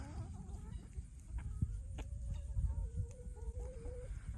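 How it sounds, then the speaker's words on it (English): Chickens cluck and murmur softly nearby, with a few higher warbling calls over a low rustling background. "So I'm coming out here to see if the chickens will enjoy the beetles."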